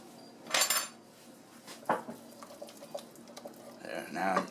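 Sausage being broken up in a pan while making sausage gravy, heard as a few sharp metal scrapes and clinks of a utensil against the pan, fairly close, with light talk between.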